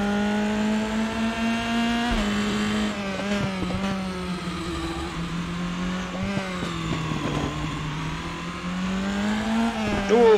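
A race car in RaceRoom Racing Experience at Aragon, its steady engine drone holding a low pitch while the rear slides under braking, with faint tyre noise and small shifts in tone over about ten seconds, loud and close.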